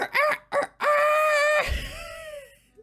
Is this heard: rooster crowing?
yes